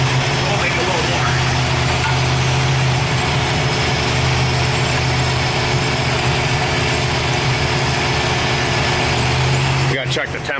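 A Chevrolet Cavalier engine, a rear-wheel-drive sleeper project car set up for nitrous, idles steadily on a dynamometer with a loud, continuous hum that holds level throughout, briefly changing near the end.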